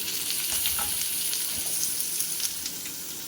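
Vegetable chop mixture with chopped green chillies frying in a pan, a loud continuous hiss and crackle of sizzling oil with faint stirring, close up and without talk.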